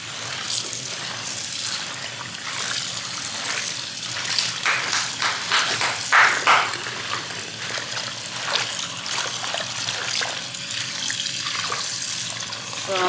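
Tap water runs steadily into a kitchen sink while turnip greens are washed by hand, a loud, close, continuous stream with occasional splashes and handling noises.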